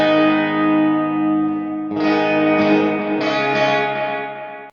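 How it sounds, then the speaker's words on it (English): ML Sound Lab Amped Oracle Orange-style guitar amp modeler with chorus, delay and reverb, sustained guitar chords ringing wide and washy, with a new strum about two seconds in and further swells, loud and alone. "that's got the chorus, delay, and reverb"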